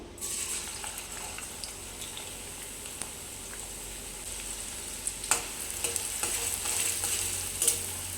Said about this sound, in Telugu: ఆయిల్ బాగా వేడైపోయిందండి ఇందులోకి మనం ఆనియన్ వేసుకుందాం